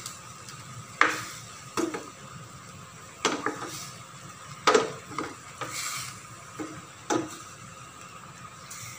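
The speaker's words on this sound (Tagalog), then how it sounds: "At pwede na nating haluin this time." A pork and tomato stew being stirred in a pot, with intermittent scraping and clinking of a utensil against the pot every second or so over a faint simmer, nobody talking.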